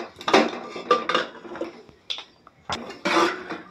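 A pressure cooker lid being opened after cooking dal, a series of sharp metallic clanks and scrapes of steel on steel, close and irregular, with brief pauses between knocks.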